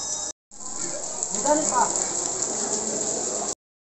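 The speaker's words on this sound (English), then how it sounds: "It's raining so badly, guys." Heavy rain pours steadily in Halebidu, Karnataka, a dense hiss that cuts out briefly near the start, then returns loud and unbroken until it stops abruptly.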